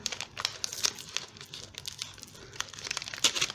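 Crinkly tearing and rustling as a heavily taped advent calendar package is pulled open, with sharp crackly bursts scattered throughout, close and fairly quiet.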